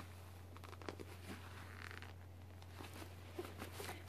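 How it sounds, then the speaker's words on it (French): A long zipper running around a camera bag is pulled open, several soft, scratchy zipping strokes over a steady low hum, faint and close. "Il y a une grande fermeture éclair qui fait tout le tour."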